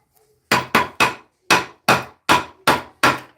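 An IRWIN folding chisel is struck into wood with a hammer, eight sharp, loud, evenly spaced blows with quick decay and brief silence between, close and with no talking.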